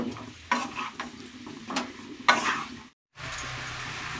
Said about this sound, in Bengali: এবার এটা একটু নাড়াচাড়া করে নেব